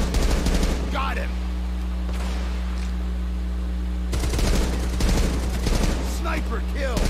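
Rapid automatic gunfire in the heist video game Payday 2, loud and close in long continuous bursts that break off and resume, over a constant low hum, with voices shouting in between.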